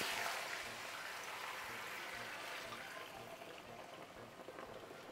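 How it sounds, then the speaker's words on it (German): Broth is poured over two pieces of herb-crusted pork roast in a pan, giving a quiet, continuous bubbling and splashing hiss that tapers slightly toward the end. "Und dann gießen wir das Ganze auf."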